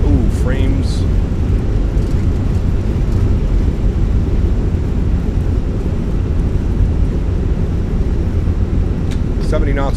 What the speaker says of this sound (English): Reversers are out. Decelerating.